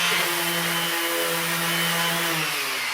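A Makita DBO180 18V random orbital sander runs with a loud, steady motor whine and a broad hiss, and its pitch shifts slightly as it works.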